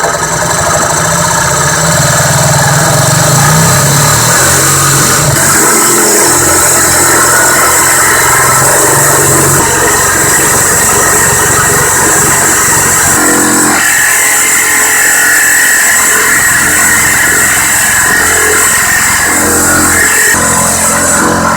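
A Makita BJR182 18V cordless reciprocating saw cutting through cast iron pipe: a loud, continuous harsh buzzing and grinding roar, close up, with slight shifts in pitch as the blade works, lasting throughout without speech.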